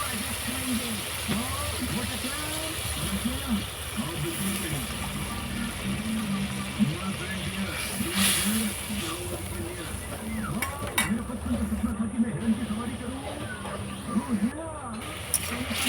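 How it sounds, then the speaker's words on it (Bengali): Spice paste being fried and stirred with a little water while cooking a Bengali koi fish dish, a steady sizzle and hiss with scraping stirs, under continuous talk. "সামান্য জল দিয়ে দেবো। দিয়ে ভালো করে মশলাটা কষিয়ে নেব।"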